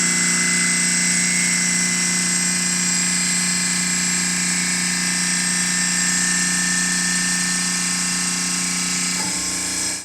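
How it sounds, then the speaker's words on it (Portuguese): A refrigeration compressor with VARISTEP capacity control runs steadily, a loud continuous mechanical hum with strong tonal whine that drops off sharply as it unloads near the end. "agora esse está comprimindo, porque ele também vai revezando qual cabeçote está modulando"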